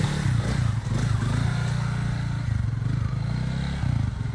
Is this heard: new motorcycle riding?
yes